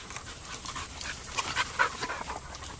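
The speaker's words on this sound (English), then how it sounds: "a purebred Australian cattle dog" A purebred Australian cattle dog pants steadily and fairly close, with quick rhythmic breaths and a few slightly louder gasps over faint background noise.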